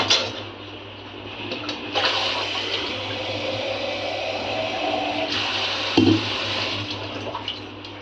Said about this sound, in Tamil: குக்கரில் போட்ட உடனே நான் இப்போ இதுக்கு தண்ணி ஆட் பண்ண போகிறேன்.